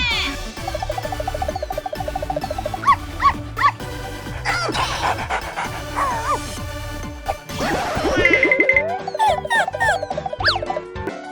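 Dogs yip and whine in short bursts amid a busy, ringing background of squeaks and mechanical tones at a water park.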